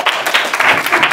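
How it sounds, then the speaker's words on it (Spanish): A crowd claps in applause at a school year closing ceremony, a brief, dense burst of many hands at fairly close range. "Bien, aplausos."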